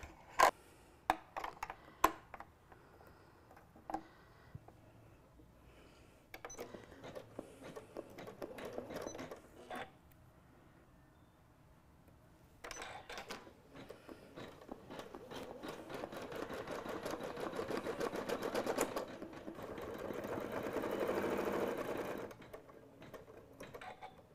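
A sewing machine stitching an applique Christmas ornament, starting with a few isolated clicks and short bursts, then running longer and louder in a steady whir before easing off, close by with no talking.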